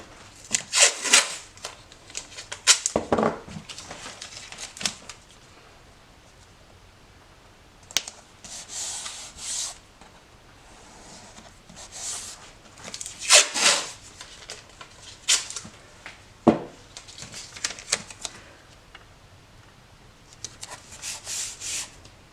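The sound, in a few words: fingernail pressing masking tape down along edge of board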